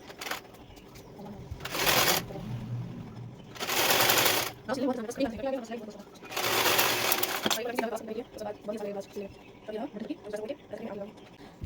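Sewing machine stitching a button placket onto a blouse runs in three short loud bursts, each a couple of seconds long, with someone talking in between.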